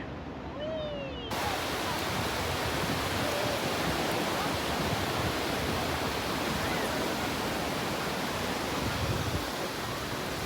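Atlantic Ocean surf at a Wildwood beach makes a broad, steady roar of breaking waves that swells in after a short quieter opening and then stays loud and even to the end.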